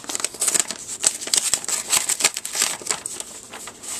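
Paper crinkles and tears continuously as a card is pulled from a red envelope, with close, busy rustling and small sharp rips and no talking.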